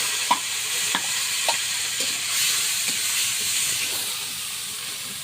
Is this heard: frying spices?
yes